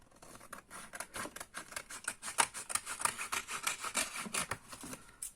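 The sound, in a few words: cutting paper for an album cover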